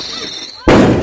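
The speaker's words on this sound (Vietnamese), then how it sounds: "lần đầu tiên thấy pháo hoa các bác" Fireworks go off at a market on the Vietnam–China border. A faint murmur with some voices is cut by one sudden, loud, close blast that leaves a dense crackling roar.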